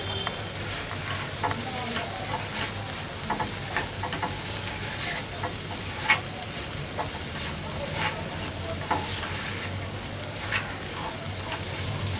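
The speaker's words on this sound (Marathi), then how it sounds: "आपण मंद आचेवर तिला 5 मिनिटं शिजवणार आहोत" Capsicum pieces cook with salt in a pan over low heat for a gram flour sabzi, giving a steady close sizzle throughout, broken by scattered sharper scrapes and clatters of stirring.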